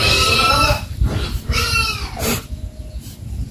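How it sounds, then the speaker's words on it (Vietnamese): Piglets of a wild boar breed on a farm garden in Binh Duong, Vietnam, grunt and squeal in close, overlapping bursts, loud and continuous with no talk. "Bà heo con cưng."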